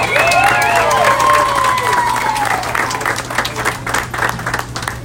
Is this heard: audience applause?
yes